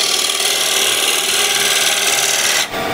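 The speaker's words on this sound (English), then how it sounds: "With the scraper I can manipulate the curve as I want it" A scraper works the surface of a spinning cherry wood bowl, a loud, steady rasping hiss that runs continuously before cutting off abruptly near the end.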